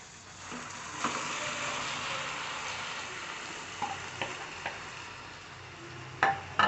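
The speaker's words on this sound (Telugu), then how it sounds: "చక్కగా మిక్స్ చేసుకోండి." Cooked prawns are mixed into a frying curry in a pan, giving a steady sizzle with a few light utensil taps and a louder clatter of spoon on metal near the end.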